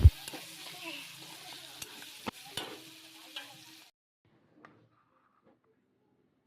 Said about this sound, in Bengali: সবজিগুলোকে ফ্রাই করে নিলাম